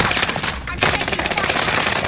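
Video game gunfire: rapid automatic bursts crackle continuously and loudly, with a brief pause before the shooting resumes.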